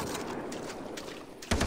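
Gunfire in Far Cry 3 rattles as a steady stream of close, rapid shots, ending in a louder, heavier burst.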